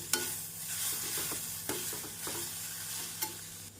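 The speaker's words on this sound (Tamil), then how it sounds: "தேங்காய் பூ சேர்த்து நாம் கேரட்டுடன் நன்றாக மிக்ஸ் செய்து மல்லி இலை தூவி விடலாம்" Grated coconut being stirred into carrot rice in a pan, a spoon scraping in a few distinct strokes over a soft background sizzle, close and fairly quiet, no voices.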